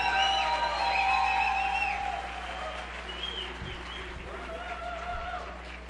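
Audience applause and cheering at a Christian vallenato concert, greeting the performers with a dense wash of clapping and crowd noise while voices carry over it. The clapping eases off partway through as talk continues.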